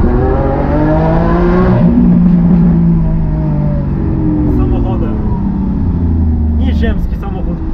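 A Lamborghini Aventador S Roadster accelerates hard, its engine rising through rev sweeps and shifting in loud, close strokes, with a voice talking over part of it.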